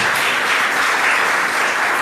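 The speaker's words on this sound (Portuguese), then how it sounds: "dar uma salva de palmas bem gostosa para o Senhor" A church congregation applauds together, a loud, dense, steady wash of clapping that holds evenly throughout.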